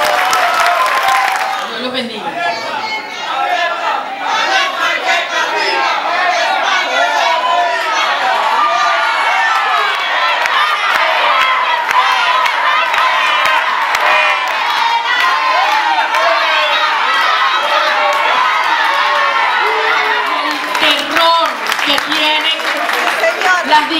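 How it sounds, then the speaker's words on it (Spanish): Lecture audience in a university hall breaks into sustained applause and cheering, a dense, loud crowd of clapping and whoops lasting throughout, with a voice speaking briefly over it. "Un aplauso nuevamente."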